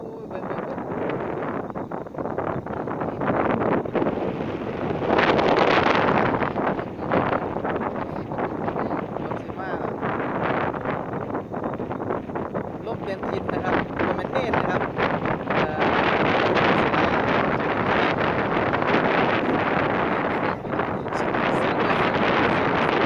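Cool wind gusts steadily across open fields at dusk as rain threatens, roaring against the microphone throughout with surges and lulls, a voice occasionally speaking beneath it.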